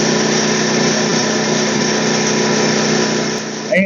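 A WEN portable generator engine runs at a loud, steady high-pitched drone after a single pull, with its tone shifting slightly near the end while someone speaks over it.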